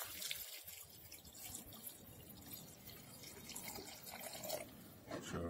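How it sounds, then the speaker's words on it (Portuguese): Water pours steadily into a cooking pot for chicken feet in a rustic country kitchen, a soft continuous splashing rush heard close but at low level, with no talking. "pra filmar a água entrando aqui por conta da quantidade de água"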